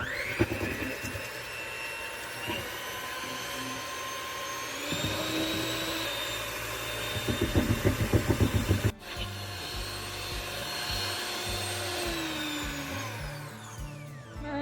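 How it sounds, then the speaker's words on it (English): An electric mixer whisks a mixture in a bowl to soft peaks for a homemade birthday cake, giving a steady, close motor whir with a burst of rougher beater rattle midway and no talking. "We are gonna whisk this until we start seeing soft peaks form."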